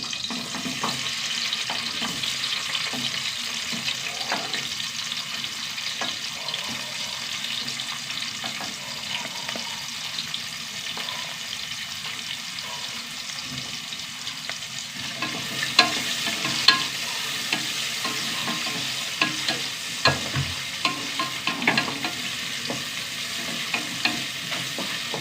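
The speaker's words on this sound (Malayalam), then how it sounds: "എണ്ണ ചൂടായിട്ടാ. ഇതിലേക്ക് ഒരു സവാള" Onion fries in hot oil in a pan for an egg curry, producing a constant close sizzle with scattered stirring scrapes and a few sharper pops near the end, no voices.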